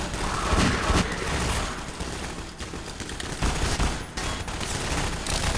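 Dense gunfire from the video game Half-Life 2 Episode 1 fills the clip, with rapid overlapping shots and bursts in a close, loud, continuous barrage.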